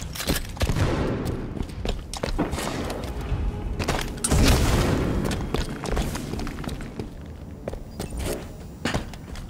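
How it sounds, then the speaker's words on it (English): Grenade thrown and exploding in the video game Halo 5: Guardians, a heavy boom swelling midway amid dense bursts of gunfire and thuds, loud and continuous throughout. "Throwing grenade."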